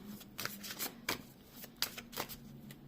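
Cards shuffled in a rapid series of crisp, papery riffles and snaps, close up and fairly loud, with no voices.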